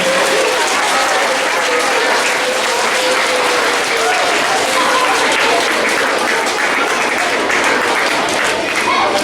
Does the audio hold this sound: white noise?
no